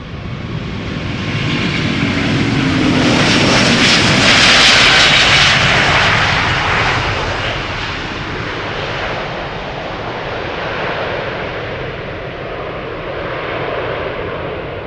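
A China Airlines Airbus A350-900 on flight 74 to Taipei, six years old, takes off at Schiphol Airport with a loud, broad jet roar that swells to a peak, then slowly recedes into a steady distant rumble, with no voices.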